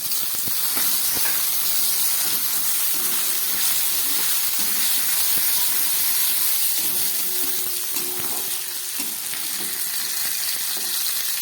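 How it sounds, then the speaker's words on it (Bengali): Chopped tomato sizzles loudly in a pan of fried garlic and onion, a constant close hiss and crackle broken by occasional soft stirring clicks, with no talk. "এবার আমি দিয়ে দিচ্ছি এর মধ্যে কেটে রাখা এই টমেটোটা"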